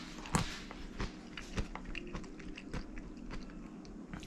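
Crunchy Vietnamese green mango salad with crisp mango, onion and peanuts being chewed close up, a steady series of crisp bites and crunches with no talking.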